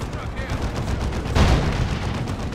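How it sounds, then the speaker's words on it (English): Heavy cannon fire from a Baneblade super-heavy tank in the Warhammer 40,000 strategy game Dawn of War 2, with its mega battle cannon, las cannons and twin-linked heavy bolters: dense, continuous battle rumble with one stronger boom midway. "Mega battle cannon, las cannons, twin linked heavy bolters, all sorts of good stuff on this thing."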